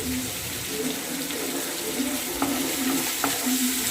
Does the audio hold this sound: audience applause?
no